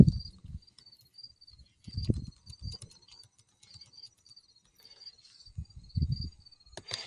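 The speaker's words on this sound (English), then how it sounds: "there's a ton of crickets here because of the farm" Crickets chirp steadily beside farm hay fields and cornfields at night, a thin high trill running throughout, with soft crackling sounds like a fire in the foreground.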